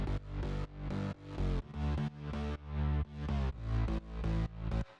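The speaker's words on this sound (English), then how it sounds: "So now, all the basses sound like this." Electronic dance track bass group for a drop, narrowed to the center: punchy bass synth notes pulse in a steady rhythm, ducking with quick sidechain pumping, loud and up front with no voices.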